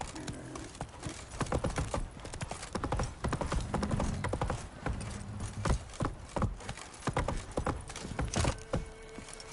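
Horse hooves clip-clop steadily in The Witcher 3 video game, with a rhythmic stream of close, fairly loud hoofbeats and an occasional whinny, no speech over them.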